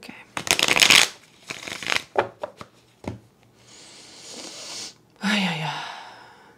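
A deck of tarot cards is shuffled in riffling bursts during a reading, with several quick flicks and a longer rustling run, close and fairly loud, along with a brief breathy voice sound.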